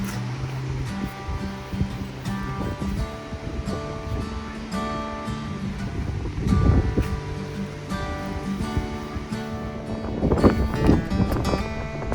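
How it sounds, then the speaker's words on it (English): Strong gusting wind gusting up to 40 kilometres an hour outdoors while planting, a steady loud roar of wind buffeting the microphone with swelling gusts and some rustling. "it's gusting up to 40 kilometers an hour, so which doesn't sound a lot, but when you hear the wind it's really wild"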